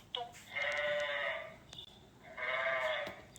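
A sheep bleats twice in long, wavering calls with a short gap between them, heard clearly against a light background hiss with no talking.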